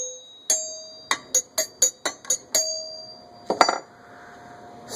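A vintage NuTone doorbell chime is struck by hand, giving a run of bright metallic dings. Six or seven quick strikes ring out, then a louder clang follows after a pause, and each tone hangs in the air. The strikes sound close, with no voices.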